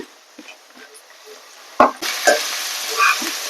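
Ginger garlic paste fries in a pan for fish curry. A few quiet utensil scrapes and knocks lead into a sharp clack, then a loud, steady sizzle takes over with stirring clatter on top.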